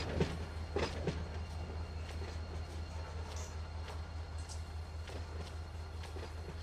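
A freight train in the Run 8 train simulator game rolls through Porphyry yard with a steady low rumble and drone. Faint rhythmic wheel clatter rides on top, and no voices are heard.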